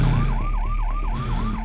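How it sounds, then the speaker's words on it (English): A wailing police siren sweeps up and down in steady repeated cycles, loud and close, over a low rumble of traffic. "Panting in the dark, he heard sirens"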